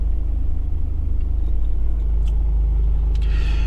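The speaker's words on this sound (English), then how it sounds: "I've just started the car, engine runs smoothly" A 2017 Mercedes E220 AMG car engine idles steadily just after starting, a smooth, loud, continuous low rumble that holds even throughout, with no voices over it.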